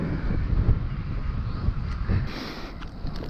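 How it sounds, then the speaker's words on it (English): Steady wind buffets a cyclist's microphone outdoors, a continuous low roaring rumble that fills the clip without pause and eases slightly near the end. "The wind has fired up from somewhere."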